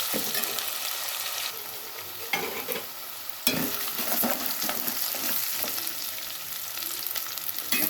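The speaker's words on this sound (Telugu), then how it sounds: "ఇది కొంచెం బ్రౌన్ కలర్ వచ్చేదాకా వేయిస్తాం" Ingredients for pulao frying in a pan until browned, a steady close sizzle broken by repeated scraping stirs, with no talking.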